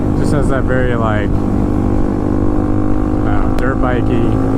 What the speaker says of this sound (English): dirt bikey, single cylinder kind of sound to it